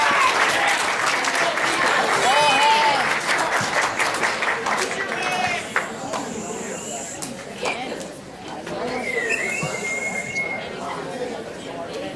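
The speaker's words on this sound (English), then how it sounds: "big round of applause" Applause from an audience at a school student recognition day for Knowledge Bowl alternates, strongest at first and then thinning out, with chatter and voices mixed in and some squeaks and shuffling near the end.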